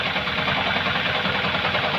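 A Yamaha Sniper 155 motorcycle engine runs steadily at close range, a continuous loud mechanical drone with a faint knocking texture and no voices.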